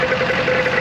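An engine idling steadily with a faint rattle from loose bolts sitting in oversized holes, a continuous close hum for under a second with no other sounds.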